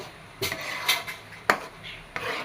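A spoon scrapes and knocks in a pan of thick jackfruit sweet mixture being stirred, making several sharp clacks and soft scrapes spaced irregularly. The sound is close, with no talk.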